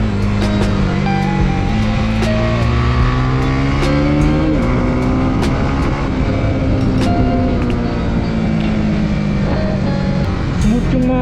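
Honda Winner X underbone motorcycle engine running on a racetrack, a loud continuous drone with rising and falling revs as it accelerates through gears, with faint voices mixed in beneath.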